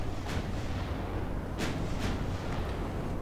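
Naval gunfire from warships in the video game Ultimate Admiral Dreadnoughts during a cruiser battle, heard as a few dull booming shots over a constant low rumble of sea and engines.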